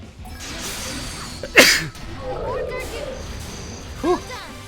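A single sharp sneeze bursts out partway through, with faint mechanical clicks and game sounds around it and a brief second burst near the end, in a Death End re;Quest video game session.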